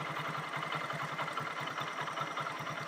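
A Hero Glamour motorcycle engine idles steadily during carburettor tuning, a close, even low putter with regular pulses and no talk.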